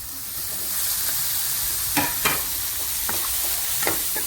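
Carrots, bell pepper and ginger stir-fry with cooked tomato in a pan for veg Manchurian gravy: a soft sizzle runs underneath while a spatula gives a few sharp scraping clicks.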